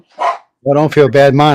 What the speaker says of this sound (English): sorry about my dog. He feels like he needs to chime in too.